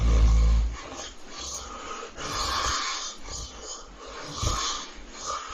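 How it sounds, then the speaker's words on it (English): A person snores loudly during sleep apnea, with several rough, breathy snorting bursts separated by short quieter gaps in an irregular rhythm, close and heavy. "a person snores loudly with snorts with pauses in breathing during sleep"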